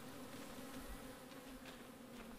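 Honey bees hum around a small nucleus hive, a dense, steady drone with no break and no voices, soft but close.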